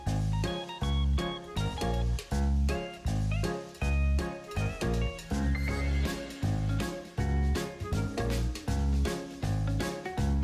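A cat meows repeatedly over loud, rhythmic music that dominates throughout, with the animal's calls partly masked beneath the steady beat.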